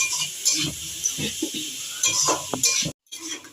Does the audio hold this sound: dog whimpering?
no